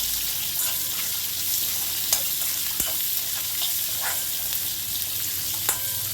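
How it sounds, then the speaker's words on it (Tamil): Two onions sizzle and fry in a hot pan for radish masala, a steady crackling hiss with occasional stirring clinks, close and continuous. "ஒரு 2 வெங்காயம், அதையும் நம்ம நல்லா போட்டு வதக்கணும்"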